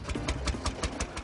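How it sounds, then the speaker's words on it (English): A vintage tractor's engine runs with a steady, rapid, thumping pulse, close and fairly loud, with no voices. "For Petrus, there's no better way to pass the time than riding his favourite tractor."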